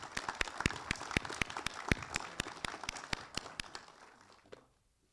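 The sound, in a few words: audience applause at awards ceremony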